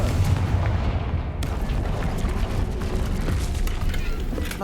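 A Confringo spell explosion in the video game Hogwarts Legacy, a heavy rumbling blast opening into a long, dense roar of debris and crackling noise that stays loud throughout.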